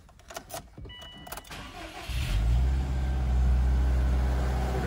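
A few clicks and rustles, then the engine of a used Subaru Impreza WRX STI 2.0 4WD with 91,000 km cranks and catches, settling into a steady, close idle rumble.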